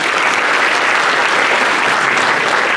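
Loud, dense applause from an audience at a Diwali cultural program fills the clip, a continuous close wash of many hands clapping.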